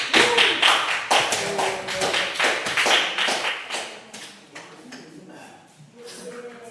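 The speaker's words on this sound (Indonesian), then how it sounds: "Kita kasih aplaus untuk kelompok 2" Applause for a student group after their class presentation, a burst of many hands clapping that starts full and thins out toward the end, with some voices mixed in.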